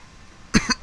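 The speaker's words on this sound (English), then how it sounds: "Still got my cough, guys" A man with a lingering cough gives three quick, close coughs in rapid succession after a short quiet stretch.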